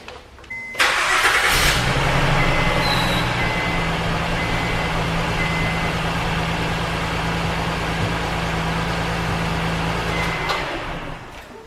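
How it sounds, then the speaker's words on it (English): A car's engine, on a vehicle having its rear brake pads and rotors replaced, cranks and catches, then runs at a steady, close idle for about ten seconds before dropping away. There is no talking. "I'm going to go ahead and start the car and push on the brakes"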